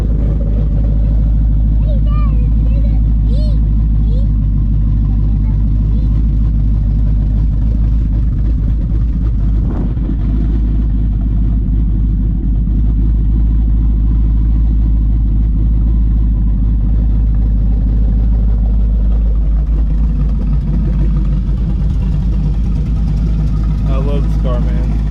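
A 2012 Ford Mustang Boss 302 V8 with its track key engaged rumbles loudly up close, with deep throttle blips and revs over a heavy idle and a small exhaust leak; someone talks over it.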